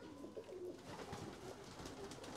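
A pigeon of the Pakistani Ali-wale breed, kept in a home collection, coos in soft, low repeated murmurs at close range, with steady background noise and no talk.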